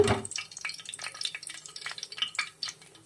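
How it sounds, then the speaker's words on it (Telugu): Cinnamon, cloves and spice buds crackle and sizzle in hot oil, with a busy run of close, bright popping and spattering that holds steady throughout, no voices over it. "ఆయిల్ వేడైన తర్వాత మనం ముందుగా చెక్క, లవంగ, మొగ్గ తీసి పెట్టుకున్నాం కదా, అవి వేసుకోవాలి"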